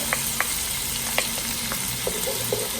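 Ginger and garlic fry in hot oil in a pan as a steady close sizzle, with light clicks and taps from stirring scattered through it and no talk.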